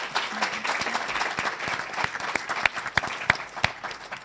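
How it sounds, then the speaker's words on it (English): An audience at a hypoparathyroidism patient-focused drug development meeting breaks into sustained applause, a dense wash of clapping hands with a few sharper claps standing out near the end. "Let's give them another round of applause."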